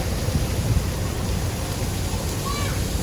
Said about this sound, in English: things that rain water down on your head, and you can run through the different sprinklers